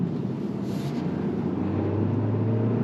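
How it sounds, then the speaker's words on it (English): A 2024 Hyundai Tucson Hybrid Limited AWD engine running, heard as a low, steady hum with a sustained drone, a moderately loud, even, continuous sound without talk. "So you can hear the engine."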